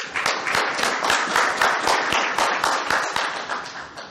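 A conference audience at a 2017 pharmaceutical regulatory compliance event claps steadily and loudly throughout, a dense, continuous wash of applause with no talk.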